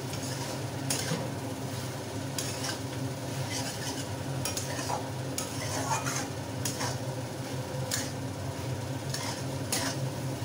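Prawn and cabbage curry stirred in a pan, a spoon scraping and knocking against the metal in repeated strokes over a low, steady sizzle, close and continuous without talk.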